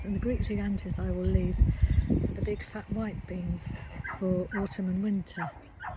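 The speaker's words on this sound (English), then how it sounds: "rather anxious little dog who's only about 6 months old at the moment on the other side" A young, anxious dog about six months old barks, yips and whimpers repeatedly from next door, its clear yelps recurring in bursts beneath a person talking steadily close to the microphone.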